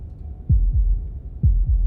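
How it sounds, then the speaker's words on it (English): Heartbeat in the video game Slay the Princess: two slow, deep lub-dub double thumps, close and prominent over a low hum, with no talk. "heartbeat"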